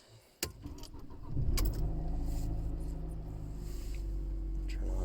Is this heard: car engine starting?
yes